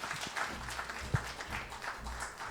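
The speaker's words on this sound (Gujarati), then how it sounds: "ધનીબેનને જોરદાર તાળીઓથી વધાવી લો." An audience applauds at a Parkinson's Day gathering in a hall, a soft steady wash of clapping heard from a distance, faint and continuous with a few sharper claps.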